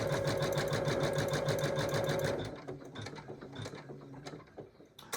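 Embroidery machine stitching an outline through batting and stabilizer, a fast steady mechanical chatter of needle strikes that slows and winds down into sparse clicks and ticks as the run finishes.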